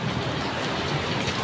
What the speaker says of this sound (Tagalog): medyo malakas yung ulan sa labas